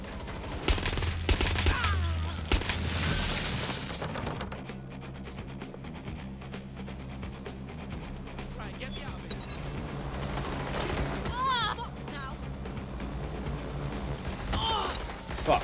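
Gunfire in the video game Watch Dogs: Legion, repeated bursts of rapid shots and mechanical clatter over game ambience, with a loud blast early on and scattered shots throughout.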